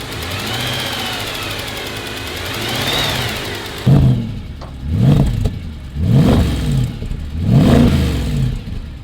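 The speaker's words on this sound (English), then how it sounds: "They're just small revs, but that sounds really good." A Mercedes ML63 AMG engine idles, then gets several short throttle blips, each rising and dropping back, close and loud with no talking.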